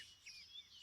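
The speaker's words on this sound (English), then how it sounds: "Listen to the birds." Faint, distant birds chirp and trill in short high-pitched calls over a quiet outdoor background.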